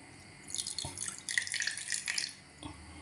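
A small amount of water poured into a chicken sisig mixture made with mayonnaise, heard as a close, bright splashing trickle in short uneven bursts over a few seconds, with no talking.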